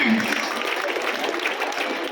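An audience at a school anniversary claps for schoolchildren, a dense, steady round of applause filling the hall at moderate loudness, without speech.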